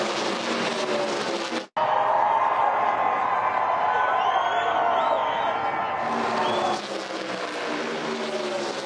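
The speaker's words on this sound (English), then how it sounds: "and the crowd erupted. Listen." Large crowd roaring and cheering at Charlotte Motor Speedway during the Coca-Cola 600 NASCAR race as a plane flies over the track, a loud, sustained wash of noise with a brief cut partway through.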